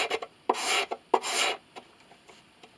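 A hand scraper drawn across violin wood during the repair of a Baader lion's head violin, making two long, dry rasping strokes, close and clear, with small taps and scuffs around them.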